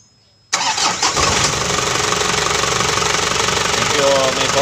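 A car engine cranks and catches after a moment of quiet, then settles into a loud, steady idle with a rough knocking texture that continues to the end.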